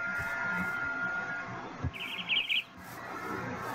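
A bird in a Minecraft-style video game gives a short, bright chirping trill midway, heard over a steady game background hum.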